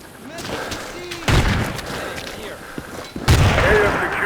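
Sniper gunfire in Battlefield 2: two loud, sharp rifle shots about two seconds apart, each with a booming tail, over a background of battlefield ambience and faint distant fire.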